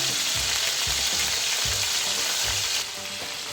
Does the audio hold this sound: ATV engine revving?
no